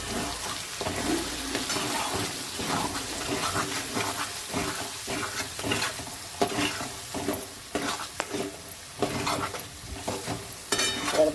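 Potato and pea curry with ground masala and green chillies being stirred in a pan, steady scraping and spoon strokes over a continuous sizzle throughout, close and fairly loud with no talking.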